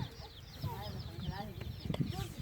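An old-breed Aseel hen with a long tail and parrot-like beak clucking softly in a series of short repeated calls, faint against a low background rumble and scattered noise.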